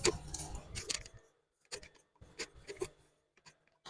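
Scissors cutting fabric for circular wide-leg palazzo pants: faint, close snipping in short clusters with quiet pauses between cuts.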